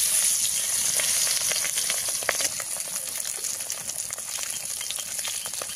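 Fish fries in a pan with a steady, close sizzle and bubbling oil crackle, with a few sharper pops early on and an even hiss after that.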